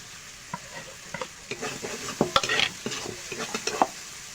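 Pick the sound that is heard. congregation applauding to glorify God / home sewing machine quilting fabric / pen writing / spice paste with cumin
spice paste with cumin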